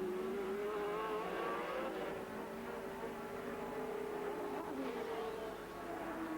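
Formula 3000 race cars at the 1986 Birmingham Superprix street circuit roar around a traffic island. There is a continuous loud engine drone with shifting pitch throughout and no talk.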